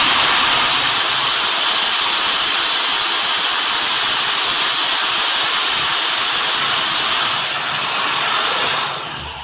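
A power drill whirs steadily as it whips mead, a loud continuous high hiss that holds for most of the stretch and then drops near the end.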